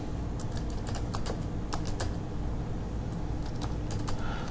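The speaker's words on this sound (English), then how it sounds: "just click anywhere and start typing." Someone types steadily on a computer keyboard, producing a run of quick, close key clicks in irregular bursts over a constant background hum, with no talking.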